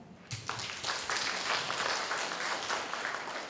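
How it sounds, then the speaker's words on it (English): Audience claps together at a department's 2019 ruby jubilee celebration: a burst of lively, closely packed applause swells quickly after a short pause and holds at a steady level. "Let us welcome ourselves with a big clap."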